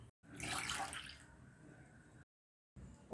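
Water pours into a bowl of curd for buttermilk in a home kitchen, a splashing stream that surges early, settles into a steady trickle, then breaks off into silence before a short resumption.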